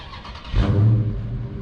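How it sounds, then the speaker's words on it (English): Factory exhaust of a 2022 Dodge Charger Scat Pack Widebody: a short, deep rev that swells suddenly from a low idle rumble to a loud, throaty roar, then settles back, heard from a few steps away. "I'm gonna let y'all hear the exhaust. This is factory."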